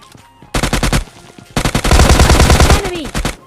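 In PUBG Mobile Lite, an automatic gun fires two loud, close bursts of rapid shots, a short volley and then a longer stream of fire with a brief pause between them.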